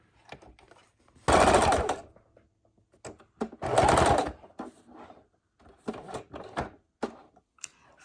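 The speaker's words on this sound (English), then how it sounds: "turn it around, and sew the outside" A sewing machine stitches a quilted book bag in two loud, close, steady runs of under a second each, with clicks, taps and fabric handling between them.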